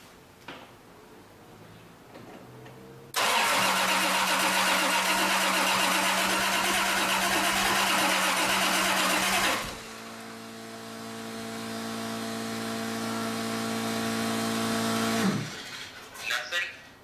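A Toyota 2JZ engine cranks over on the starter with a loud, steady whirring drone, then switches to a lower, sustained tone that gradually rises before cutting off, with people talking around it.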